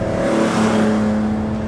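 A 1973 Datsun 240Z accelerates down the road, its engine holding a steady, loud drone from inside the car with a tone that rises slightly as it pulls, with no talk over it.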